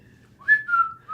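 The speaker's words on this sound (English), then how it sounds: "She always whistles this tune." A person whistles a short tune phrase alone, a few clear sustained notes rising and then holding, close and fairly soft.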